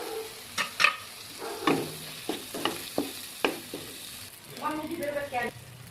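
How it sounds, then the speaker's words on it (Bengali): Spice masala with tomato and turmeric sizzling in a pan, with repeated clinks and scrapes of a spoon stirring it, close by with short irregular bursts. "স্বাদ মতো লবণ দিয়ে মশলাটাকে খুব ভালো করে কষিয়ে নেব"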